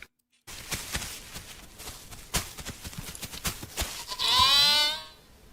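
Goat bleating in The Isle Evrima survival game, a wavering cry near the end that follows a run of rapid clip-clop hoof-like footsteps.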